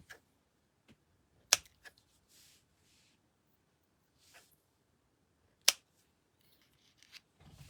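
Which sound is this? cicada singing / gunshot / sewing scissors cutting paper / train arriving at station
sewing scissors cutting paper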